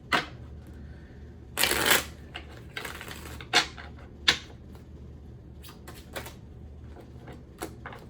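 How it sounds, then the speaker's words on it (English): Oracle cards shuffle in a few quick riffling bursts, close and crisp, separated by softer taps and handling noises, with almost no talking. "I love the way these cards shuffle."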